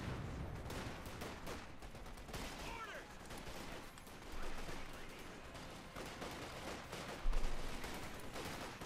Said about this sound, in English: they're firing away